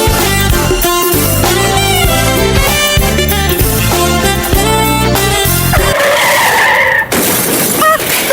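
Car tyres skid loudly in a radio advert sound effect, a long screeching slide that ends in a sudden crash and shattering burst, followed by a brief rattle of debris.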